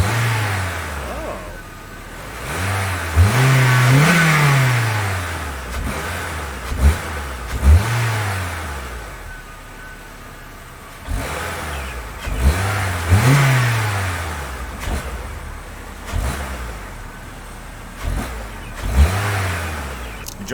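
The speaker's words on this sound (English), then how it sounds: "I'll let it warm up, then I'll give it some gas." Honda Civic engine fitted with a new air filter, idling then revved several times in rising-and-falling bursts with short pauses between, heard up close with no talking.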